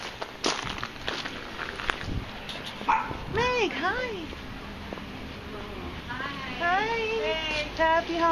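At a military homecoming at a workplace, a small dog gives excited yips and whimpering barks under people talking nearby, with footsteps and movement in the background.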